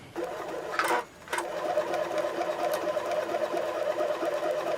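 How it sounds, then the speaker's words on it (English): Sewing machine stitching fabric for a costume, a steady close mechanical whir that starts, breaks briefly with a couple of clattering knocks, then runs on continuously. "My machine did not enjoy sewing this fabric to itself."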